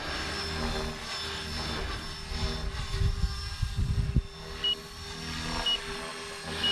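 A large Blade 330s RC helicopter flies nearby, its steady rotor whine and buzzing drone running throughout with some low-end fluctuation and a few small clicks.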